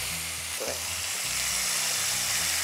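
Onions sautéing in a pan in a cooking-show kitchen, a close, loud, steady sizzle and hiss that carries on unbroken across the short stretch, with no talking.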